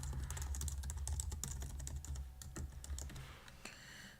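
Fingers type a password on a computer keyboard, a quick irregular run of close, fairly quiet key clicks with no talk.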